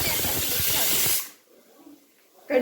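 Pressure cooker releasing steam, a loud steady hiss that cuts off abruptly after about a second, followed by quiet room sound and a faint voice.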